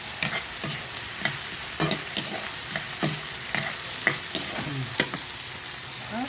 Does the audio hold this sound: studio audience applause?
no